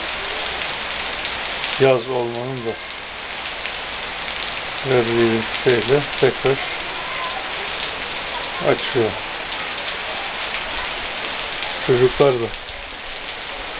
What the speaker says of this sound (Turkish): bugün sabahtan beri birkaç saattir en azından aralıklarla yağıyor.